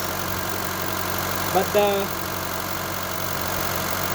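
Honda Fit engine idling in a repair shop with timing chain noise, a steady even mechanical hum throughout while someone speaks briefly partway through.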